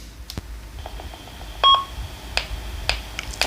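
A Kinnota GP-558 UHF handheld radio gives a short, clear electronic beep as it keys to transmit, with a few faint clicks from the set before and after it.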